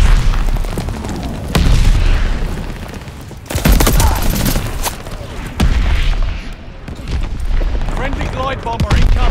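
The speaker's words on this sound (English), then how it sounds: "Shells falling. Friendly mortar fire coming." Friendly mortar shells burst in the Call of Duty Vanguard multiplayer game, several heavy booming blasts amid scattered gunfire, loud and close, with in-game voices calling out over the battle.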